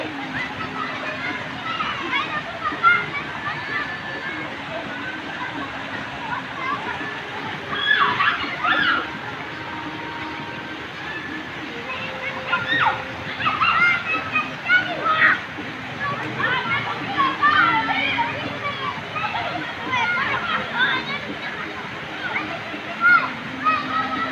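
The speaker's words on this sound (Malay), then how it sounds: "Air terjun Hondi" Water splashing at Hondi waterfall in Papua, a steady broadband rush with scattered splashes throughout, while children's voices and talk carry over it.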